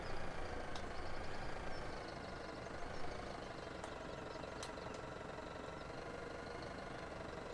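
A tractor pulling a trailer in Farming Simulator 17 runs steadily at a low, rumbling idle-like drone, loud and continuous throughout with no talk over it.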